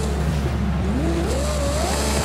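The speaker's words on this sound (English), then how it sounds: "Oh man, the screaming V12." A screaming V12 supercar engine in Forza Horizon 5 holds a continuous loud, rising rev, its pitch climbing smoothly over a dense low rumble with no pauses.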